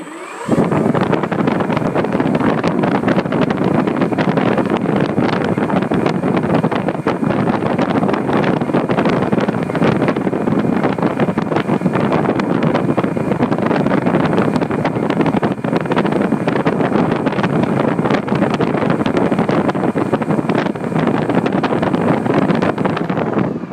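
A faulty HK Red Brick 80A ESC drives an RC boat motor in a steady, loud, continuous whine and rumble that surges on its own, with heavy wind buffeting across the whole stretch.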